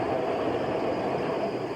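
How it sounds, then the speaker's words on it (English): A Metro Rail train rumbles steadily along the track, making a loud, continuous low roar with no pauses. "Every 7 minutes or so, the Metro rumbles down the rails."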